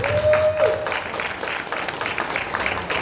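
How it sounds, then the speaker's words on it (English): Audience applause fills a convention fan panel for the Power Rangers, a steady wash of clapping from a crowd that holds at even strength for about three seconds, with a brief tonal whine near the start. "Round of applause for the crowd."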